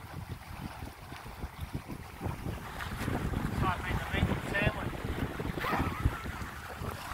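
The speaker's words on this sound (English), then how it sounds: "We've got a nice gust coming as well." A wind gust sweeps over a Spencer 30 sailboat racing in Lyttelton, a rushing wind and water wash that builds in the middle and stays steady, with faint crew voices in the background.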